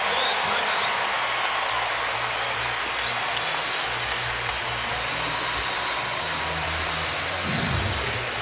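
Loud, steady roar of a basketball arena crowd at a college game, Kentucky against Ole Miss, with cheering and clapping sustained throughout a timeout and low rumbling underneath.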